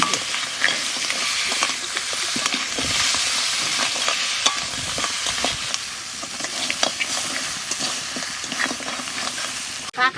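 Crab goes into spice masala frying in a pan and is stirred: a loud, continuous sizzle with repeated scraping strokes of a spoon running throughout.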